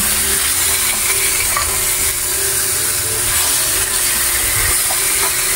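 Ribs seasoned with salt and pepper being stirred in a hot pan, a loud, steady sizzle and hiss of frying with occasional scraping from the stirring, no voices.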